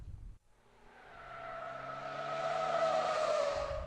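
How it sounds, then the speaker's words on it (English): A car with its tires hydroplaning on a water-covered test course gives off a rising engine tone and a steady hiss of spray and tire noise that grows louder over a few seconds after a brief gap. "eventually the tires hydroplane and the car goes straight"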